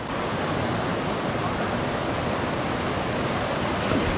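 Steady, dense rush of water from the Salto do Tigre waterfall in Matinhos, Paraná, Brazil, a loud, close, continuous roar filling the whole span with no clear speech over it.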